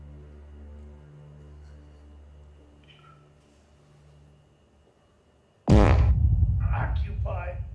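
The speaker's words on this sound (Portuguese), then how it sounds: "O jumpscare do peido se tornou realidade." A sudden loud fart sound used as a jumpscare in the horror film Screamboat bursts in after several seconds of quiet low droning, then rings on with a tail of noise.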